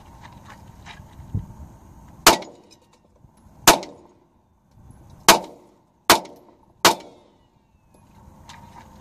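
Five sharp handgun shots from a Ruger SR40c or LC9 at an outdoor range, loud and spaced a second or two apart, each with a short ringing tail over quiet background rustle.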